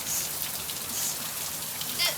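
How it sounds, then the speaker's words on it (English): Heavy rain falls just outside an open doorway, a steady close hiss of drops lasting throughout with no pauses. "I'm gonna leave this door open though. It might get a little bit rainy"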